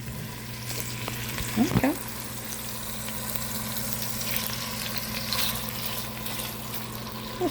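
Pork and sugar sizzle steadily while being stir-fried in a pot, with a brief scrape of stirring partway through and a single short spoken word.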